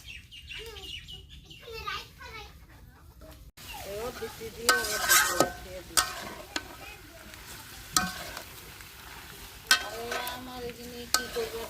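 Meat with spices is stir-fried outdoors, a spatula scraping and knocking in the pan over a soft sizzle, with birds and chickens chirping in the background and a voice speaking at the start.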